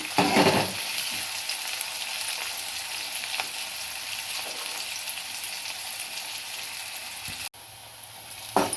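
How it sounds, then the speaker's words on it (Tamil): Onions frying in ghee in a pan and being stirred, a steady close sizzle with occasional scraping stirs, briefly cut off near the end before resuming. "நெய் போட்டு நம்ம ஒரு டைம் நல்லா கிண்டி விட்டுக்குவோம் இந்த வெங்காயம் நல்லா வேகணும்"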